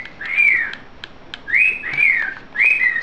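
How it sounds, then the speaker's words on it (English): A bird calls loudly close by, giving three repeated whistled calls with steady pauses between them. No one speaks. "the bird's being loud again"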